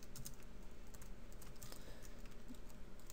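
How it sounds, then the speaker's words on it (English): Steady, fast typing on a computer keyboard while entering Java code, a dense run of soft, quiet key clicks continuing throughout with no talking. "you could write system out print"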